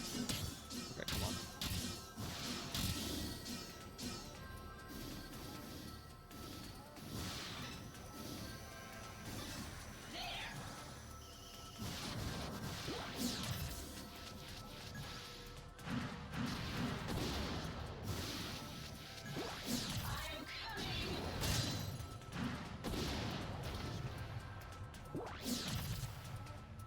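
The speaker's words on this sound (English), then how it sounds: "Gauntlet, smashing into surrounding enemies." In Zone of Enders 2, a mech's gauntlet smashes into surrounding enemies, producing repeated heavy crashes, thwacks and swooshing strikes in a dense, continuous stream of game combat effects.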